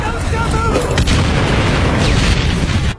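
Japanese artillery pounds positions from the mountains in a World War II film scene, with a dense, loud run of deep booms and rumbling blasts that barely lets up.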